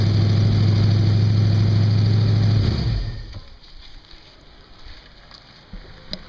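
A 1965 Ford Falcon Futura convertible with a 289 V8 idles steadily up close with a strong low drone, then the engine note drops away, leaving quieter outdoor background noise.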